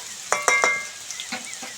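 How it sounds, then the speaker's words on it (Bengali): Potatoes fry in a pan as turmeric and chili powder are added: three quick ringing metallic taps come first, then a constant close sizzle with light scraping. "আলুগুলো ভালো করে ভেজে নিয়েছি বাকি মশলাগুলো দিয়ে দেব হলুদ লঙ্কার গুঁড়ো"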